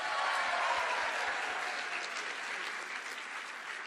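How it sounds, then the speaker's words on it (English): Audience at the National Prolife Summit in Washington, D.C., applauding steadily in an indoor room, a dense even wash of clapping from many hands throughout with no speech. "Let's give it applause for being warm this morning."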